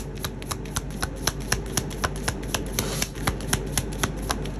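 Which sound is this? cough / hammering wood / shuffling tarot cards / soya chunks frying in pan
shuffling tarot cards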